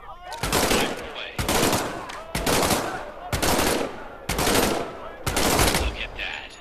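Sustained bursts from an M1A1 submachine gun in the WWII virtual-reality game Medal of Honor: Above and Beyond, six loud, rapid automatic volleys separated by short pauses, close and dominating with no talk.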